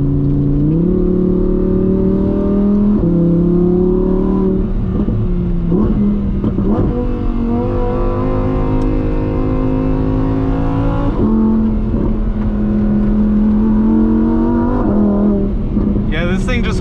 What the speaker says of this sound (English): Wow, but proper fun out here in the Lamborghini Huracan.